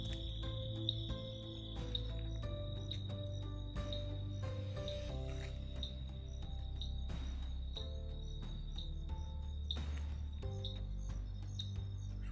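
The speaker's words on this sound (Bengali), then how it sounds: "তুমি শুধু ঝিঝি পোকার আওয়াজ পাবে আর ঘন্টি পোকার আওয়াজ পাবে এখান থেকে" Crickets and other insects at night near a quiet homestay in Kalimpong, North Bengal, with a steady high-pitched chirring drone, faint and continuous, alongside scattered soft low rustles and knocks.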